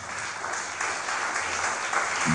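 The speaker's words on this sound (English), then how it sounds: "Clap for Jesus." A church congregation claps together during a live-streamed sermon, a dense sustained patter of many hands that builds slightly toward the end.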